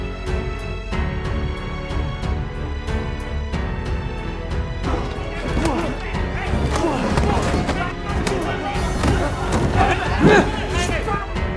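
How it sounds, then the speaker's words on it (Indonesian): Brawl in an Indonesian war-of-independence film: a dense, continuous stretch of scuffling, thuds and shouting crowd noise, with sharper impacts near the end, all under steady voices. "sehingga terjadilah tawuran"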